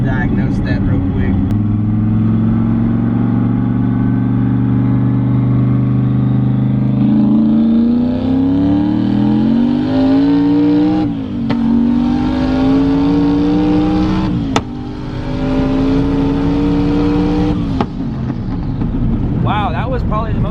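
A boosted Corvette engine revs through pulls, a loud close exhaust note climbing steadily in pitch, dipping briefly at shifts and rising again.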